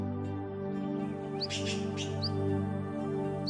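Birds chirping in short, faint high calls over a steady low hum, with a few brief tweets spread across the moment.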